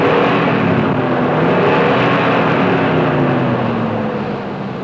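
A 1965 Oldsmobile car with its Super Rocket V8 engine drones loudly and steadily throughout, a continuous close engine roar with a slight rise and fall in tone, heard alone without speech.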